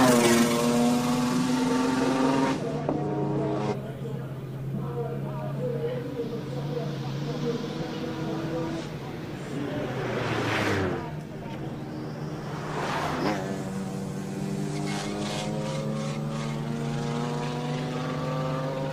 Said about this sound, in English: Here is the Port Elizabeth made Noble M400. It's got a Ford 6-cylinder.